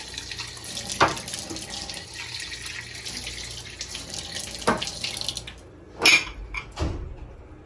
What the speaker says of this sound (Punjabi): ਪਾਣੀ ਪਾਈ ਜੱਗ ਚ